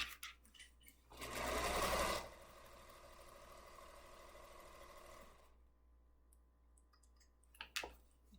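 A sewing machine stitches a fabric table runner, starting with a loud fast whir for about a second, then running steadily more quietly for a few seconds before stopping, followed by a couple of faint clicks.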